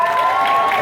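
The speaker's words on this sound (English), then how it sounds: "Applause for B." An audience at a fan convention panel with Jeff Goldblum applauds in a brief, steady wash of clapping and crowd noise, loud and close, with no distinct voices.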